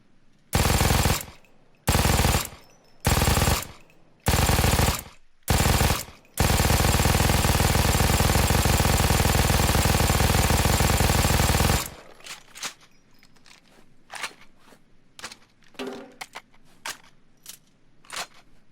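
MG-42 general purpose machine gun firing in the video game Payday 2: several short loud bursts, then one long sustained burst of rapid fire, followed by quieter clicks and handling noises.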